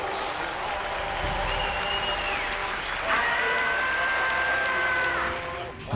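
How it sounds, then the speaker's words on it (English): Audience applause rolls on steadily at a moderate level, with a thin whistling tone rising partway through and the crowd noise swelling slightly before fading at the end. "can we get an applause for Zam for finishing the Dogpick?"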